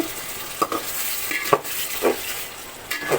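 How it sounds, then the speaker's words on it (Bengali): Shrimp and potatoes sauté in a pan for a ridge gourd curry, the soft sizzle punctuated by four or five close, distinct scrapes and clinks of the spoon against the pan. "ঝিঙের জন্য এই যে চিংড়ি মাছ আর আলু দিয়ে কষাচ্ছি"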